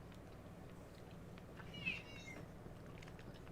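A kitten gives a single short, high meow midway through, fairly faint over a low, steady background hum in an otherwise quiet room.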